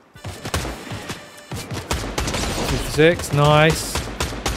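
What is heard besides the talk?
gunfire shooting at the player in video game Fortnite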